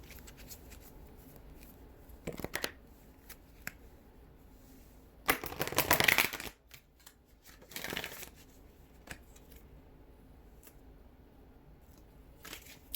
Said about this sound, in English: One more shuffle after this.